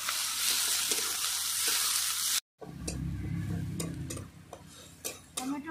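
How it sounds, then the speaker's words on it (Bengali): Onion and chopped tomato sizzle steadily in a pan for aloo dum, a loud, close frying hiss broken by a brief dead gap, then continuing with soft scraping stirs. "পেঁয়াজটা ভালো করে লাল করে নেব। একই সঙ্গে দিয়ে দেবো টমেটো কুচি"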